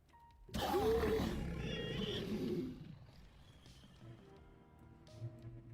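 A deep, rumbling growl from the Zombinicus dinosaur in the video game Dinosaur Simulator, loud and close for about two seconds, then fading into a low ambient hum.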